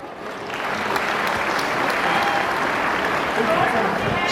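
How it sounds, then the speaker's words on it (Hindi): Crowd applause at a New Year's Eve carnival function, swelling in within the first half second and then holding as steady, dense clapping, with faint voices mixed underneath. "तालियों की आवाज़ पूरी चाहिए, है ना।"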